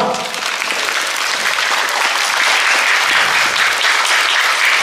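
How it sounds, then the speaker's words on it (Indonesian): Applause fills the air at an Indonesian Independence Day ceremony at an Islamic primary school in Palangka Raya, a dense, steady crowd clapping that stays loud and even from start to finish. "Tepuk tangan buat kita semua."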